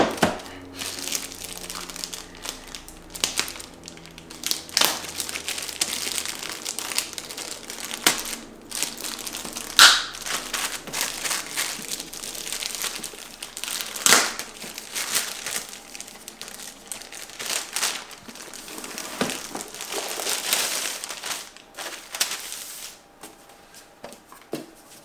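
Crinkly plastic bag rustles and crumples continuously as a home theater subwoofer amplifier is unwrapped, close and fairly loud, with sharper crackles and a few louder rustling bursts, no talking.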